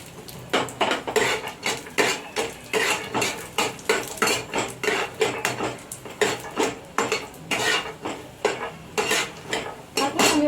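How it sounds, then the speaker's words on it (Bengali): Peanuts and chickpeas stirred in a metal pan for an idli batter dish, a steady run of rhythmic spatula scrapes and clinks against the pan, close and fairly loud with no voices. "কয়েকটা চিনি বাদাম আর ছোলা দিয়ে নাড়াচাড়া করে নিলাম"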